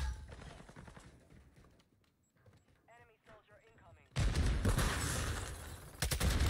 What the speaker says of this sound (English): I got hit by a random grenade.